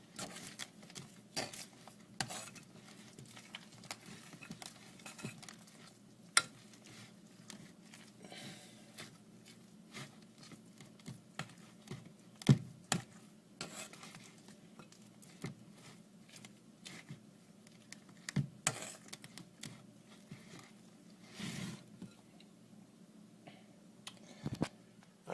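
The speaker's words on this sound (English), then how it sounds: "the mixture itself is becoming almost impossible to stir" Thick, doughy ice cream bread batter is worked with a utensil, giving soft sticky pats and scattered clicks against the bowl at an irregular pace, fairly quiet and close, with no talking.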